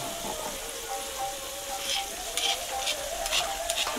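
Mutton being mixed with mustard oil in a pan makes a soft sizzle under intermittent scraping and stirring clatter, close up and growing busier toward the end.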